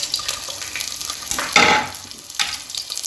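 Chicken feet dropped into a pan of sautéed garlic and chili for adobo, giving a watery sizzle and frying crackle with stirring and a couple of louder hissing surges.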